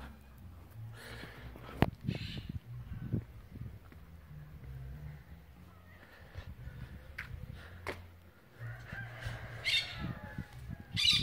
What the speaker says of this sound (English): I think this bird talks.